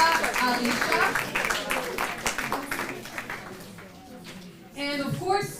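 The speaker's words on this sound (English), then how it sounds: "Big round of applause." An audience claps for a team being introduced, a dense burst of applause that fades after a few seconds while a voice keeps talking over it.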